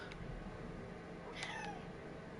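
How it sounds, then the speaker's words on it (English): A pet cat gives a single short meow at middle distance, faint against a steady background hiss with no talking. "That is my cat."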